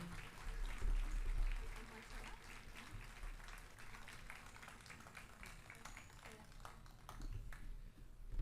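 Outdoor audience clapping for a violin and piano duo at the Relais pour la Vie candle ceremony in Brussels, a steady spread of hand claps sustained for several seconds with some chatter and murmuring mixed in.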